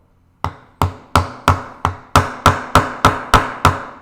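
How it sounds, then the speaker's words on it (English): Sharp, evenly spaced hammer blows drive a truss rod into a wooden guitar neck in a workshop, eleven ringing strikes close and loud with short decays, no talking. "Hammering it in is okay if it's a nice tight fit."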